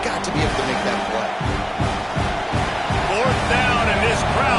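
A football stadium crowd roars on fourth down, a dense, constant wall of noise with rhythmic chanting or stomping pulses, while a commentator talks over it.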